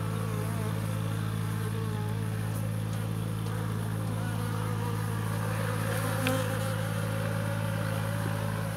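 Honey bees buzz around a two-day-old hive struck by varroa mites and deformed wing virus, a steady, dense drone of many wings that stays close and even throughout, with a car faintly passing in the background.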